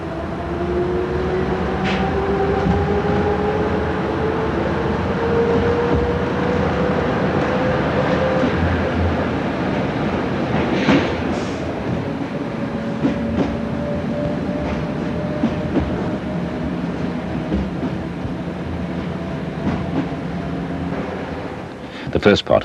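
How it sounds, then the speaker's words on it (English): Derby lightweight diesel multiple unit train running on a coastal branch line, a steady rumbling ride with rising and falling engine tones and rail clatter, heard from on board under narration. "many of the branches were now using these Derby lightweight units"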